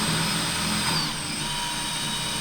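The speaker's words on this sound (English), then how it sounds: "I use a 3/16 drill bit, so I drill those holes completely through." A power drill fitted with a 3/16 bit bores holes clean through a workpiece, a steady close whirring drone that holds level for a couple of seconds with no voices.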